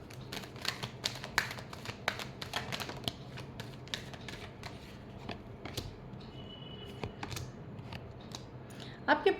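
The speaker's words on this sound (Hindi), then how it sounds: "Last shuffle." Tarot cards being shuffled by hand, a rapid run of crisp riffling clicks and flutters close up, with a brief louder burst of handling at the end.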